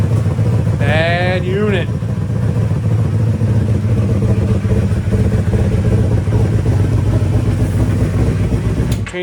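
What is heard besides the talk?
1985 Honda Magna motorcycle engine running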